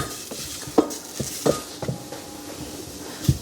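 Mustard being mixed into a cooking flour roux in a pan, heard as a few soft scraping stirs and light clinks of utensil against pan over a faint background sizzle, with no talking.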